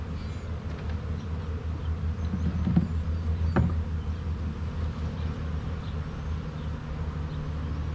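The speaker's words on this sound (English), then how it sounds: "help draw the nurse bees I shake in the upper box down onto the brood" Dense, continuous buzzing of many honey bees in a hive box close by, a steady drone with brief louder passes as individual bees fly near.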